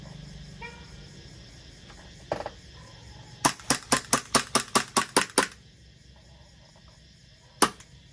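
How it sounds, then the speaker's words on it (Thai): A Glock pistol is fired until the magazine runs empty: one sharp shot, then a rapid, evenly spaced string of about ten loud cracks, and a single final shot a couple of seconds later, with no talking. "ผมก็จะยิง ให้หมด สิบห้านัดนะ"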